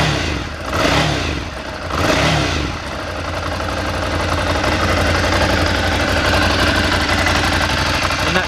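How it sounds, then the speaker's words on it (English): An air-cooled Ducati V-twin motorcycle engine starts with two throttle blips, then settles into a loud, steady, lumpy idle with mechanical clatter. "that's the unmistakable sound of a air-cooled Ducati V-twin"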